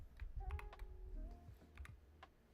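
Typing on a computer keyboard: a quick irregular run of clicky keystrokes, close and fairly quiet, with no voices.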